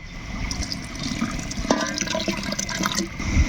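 Ginger-garlic juice water is poured into chicken biryani cooking in a pot, a close, steady splashing pour with gurgling, alone without talk.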